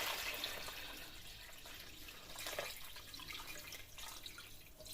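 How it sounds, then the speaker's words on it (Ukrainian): Cooled marinade poured over herring packed in a container, a soft continuous liquid trickle and splash at moderate-low level with a brief louder surge midway, no talk. "І заливаємо охолодженим маринадом. Ось так заливаю нашу рибку."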